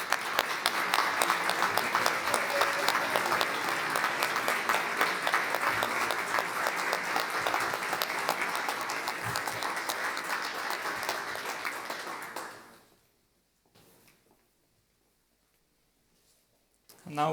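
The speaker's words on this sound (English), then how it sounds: "So, applause." A crowd applauds at a university tech center opening, loud sustained clapping for about twelve seconds before abruptly fading into near silence.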